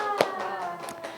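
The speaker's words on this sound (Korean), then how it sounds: "자, 박수." Children in a Korean church class clap briefly, a few scattered, uneven hand claps that are fairly faint.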